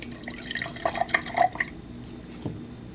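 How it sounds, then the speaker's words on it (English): Prime Hydration drink poured from a bottle into a glass, a soft, brief liquid trickle with a few light drips and splashes, fairly quiet and close. "So I'm going to pour a little bit into this glass of the Prime Hydration bottle."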